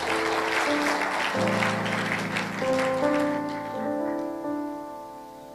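Church congregation applauding together, a dense patter of clapping that swells and then tapers off while sustained keyboard or organ chords play underneath.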